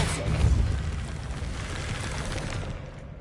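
A Depulso spell cast in Hogwarts Legacy on PS5 lets out a deep, loud booming burst with a rushing whoosh that slowly fades over about three seconds.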